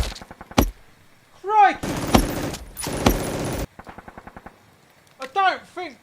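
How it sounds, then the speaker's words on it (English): Machine gun on a Hanomag half-track in a wartime battle scene, firing in short rapid bursts of loud close shots separated by gaps, with a shouted exclamation and whooping effects between bursts. "The Hanomag gunner continues firing."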